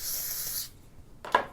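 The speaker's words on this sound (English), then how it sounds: "I am just going to take a little bit of hairspray," Hairspray sprays onto a hairbrush in two bursts: a steady hiss lasting more than half a second, a pause, then a shorter sharp spritz, close and fairly soft.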